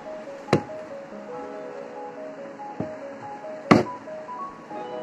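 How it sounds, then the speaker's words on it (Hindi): Lock on a plastic Swiss Beauty eyeshadow palette case clicking three times, sharp and close, with uneven gaps between snaps over a faint musical background. "इसका जो लॉक सिस्टम है वो भी काफ़ी अच्छा है, आप ये आवाज़ सुन सकते हो"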